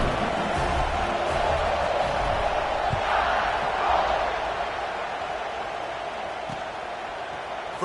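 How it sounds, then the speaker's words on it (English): Football stadium crowd at an Alabama versus Kentucky college game cheers after a touchdown drive, a steady broad roar that swells and then eases slightly, heard from a distance. "this crowd is feeling themselves after that last drive"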